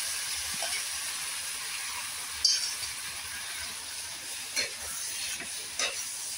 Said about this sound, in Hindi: अब इसमें हम डाल देंगे जो पीसे हैं साग